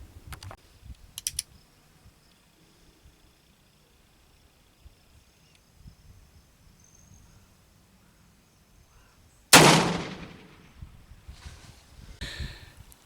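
A Pietta 1860 Army black-powder revolver loaded with Triple 7 fires a single loud, sharp shot at an outdoor range, followed by a brief decaying echo amid quiet surroundings.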